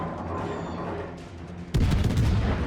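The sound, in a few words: Hindenburg cruiser guns firing, World of Warships video game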